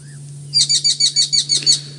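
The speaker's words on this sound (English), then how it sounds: "there's a woodland kingfisher shouting at him" A loud, rapid series of about eight high trilling calls from a woodland kingfisher on safari, close and clear, over a steady low hum.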